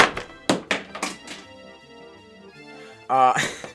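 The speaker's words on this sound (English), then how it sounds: "I just dropped half of my Prism Breaks" Prism Break toys dropped, several sharp hollow thunks clattering in quick succession, followed by a lingering ringing tone and a brief louder burst, fairly close and moderately loud.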